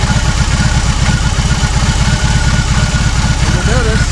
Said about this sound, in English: We're gonna have the bike in neutral with the engine running.